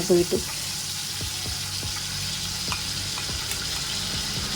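Chicken coated in sauce frying in a pan, a steady close sizzle running throughout with a few soft clinks and stirring taps near the start.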